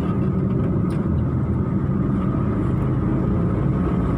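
Passenger car engine held at about 2500 RPM in third gear before an upshift to fourth, a steady, even mid-pitched hum with low rumble, constant and close, no talk over it.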